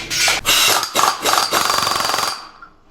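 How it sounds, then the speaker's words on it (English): An impact wrench tightens the clutch nut on a Yamaha Rhino 700 during a machined sheave and clutch kit install, hammering in several loud, close bursts before a steady rattling run that cuts off abruptly. "hit it with an impact to tighten it down"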